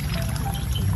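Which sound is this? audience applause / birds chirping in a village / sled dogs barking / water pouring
water pouring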